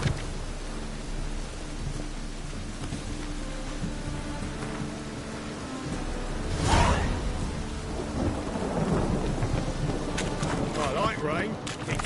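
Steady, heavy rain hisses throughout in The Witcher 3: Wild Hunt, joined midway by a sharp, loud crack of thunder that rolls off into a long low rumble under the continuing downpour.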